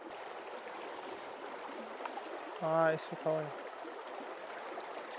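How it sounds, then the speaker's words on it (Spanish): Fast-flowing water in the Corcovado river in Chubut runs as a steady, faint rush throughout a fly-fishing outing. Someone speaks briefly over it near the middle. "este agua va muy rápido"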